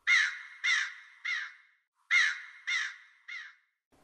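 Crow cawing as a sound effect in an animated Bible story: six loud, harsh caws in two groups of three, each call a little shorter than the last, heard alone and close.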